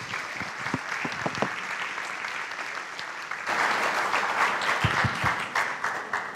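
An audience bursts into steady applause welcoming a speaker at an evening lecture event, the clapping growing fuller and louder midway and continuing throughout.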